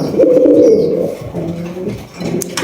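Raj golla pigeons, a pair of large fancy birds, give a low rolling coo that swells and fades in a couple of close, steady phrases with no talk over them.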